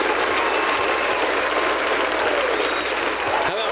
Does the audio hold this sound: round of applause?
yes